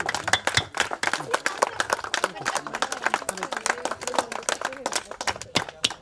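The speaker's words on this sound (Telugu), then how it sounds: "క్లాప్స్ క్లాప్స్ గట్టిగా" People clap at a 1999 SSC batch school reunion, a loose, uneven patter of individual hand claps close by with talk and crowd noise mixed underneath.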